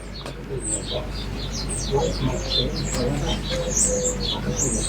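Many small birds chirp and tweet busily at once, high and bright, over a low background rumble with some talking mixed in.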